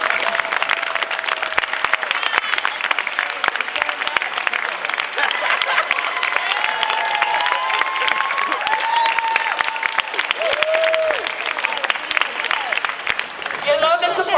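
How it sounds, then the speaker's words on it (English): Sustained applause from a large audience at a high school graduation ceremony, dense and even, with scattered voices and faint cheers underneath. "Please stand so that we may applaud you."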